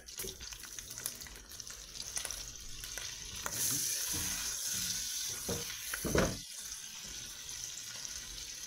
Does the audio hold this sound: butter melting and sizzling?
yes